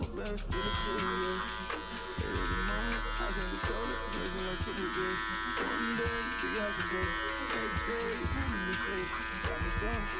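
Electric hair clippers fitted with a number 2 guard, lever closed, buzz steadily and close while trimming a beard during a barber's low-fade line-up, with someone talking over the hum.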